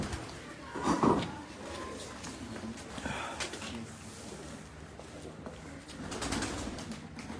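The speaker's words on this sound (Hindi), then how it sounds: "ये हमारे फरंगी कबूतरों में से हैं कबूतर," Farangi pigeons on a rooftop coo in soft, rolling bursts near the start and again toward the end, with rustling and faint voices in the background.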